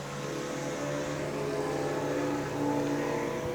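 Speedway race cars start a six-lap rookie heat with a steady engine drone that swells slightly as they get underway, heard at a moderate distance without talk.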